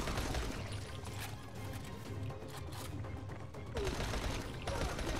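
Sustained bursts of video game gunfire in Dying Light: The Following, shots packed closely together into a steady loud volley, with a brief surge near the end.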